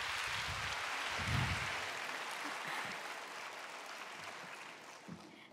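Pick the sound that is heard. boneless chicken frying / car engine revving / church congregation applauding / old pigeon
church congregation applauding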